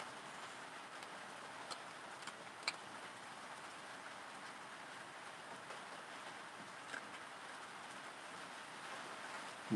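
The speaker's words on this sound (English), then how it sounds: "I like the sound of the rain as well" Soft, steady rain patters as a constant even hiss, fairly quiet and uninterrupted, with a few faint ticks and taps on top and no voices.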